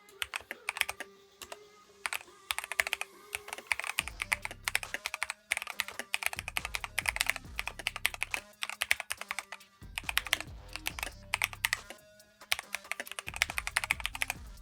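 Rapid, steady typing on an Epomaker compact miniature keyboard: dense, close clacking keystrokes in quick bursts with brief pauses, heard alone without voices.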